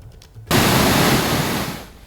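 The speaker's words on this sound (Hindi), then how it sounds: "केदारेश्वर महादेव मंदिर का झरना भी रौद्र रूप में दिखाई दिया।" Flooded waterfall at Kedareshwar Mahadev temple during monsoon rains, a sudden loud roaring rush of water bursting in after a brief quiet, broad and steady then easing slightly, with no voices.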